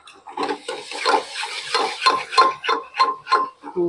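Black chickpeas tipped into a pot and stirred, giving a run of regular scraping, clinking strokes of a spoon against the metal pot, close and fairly loud with no talking.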